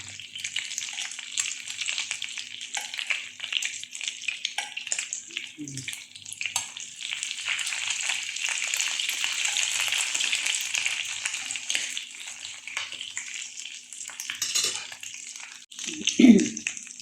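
Lumpiang Shanghai spring rolls fry in hot oil with a steady, close bubbling sizzle that holds throughout, broken by a few soft clinks of a utensil near the end.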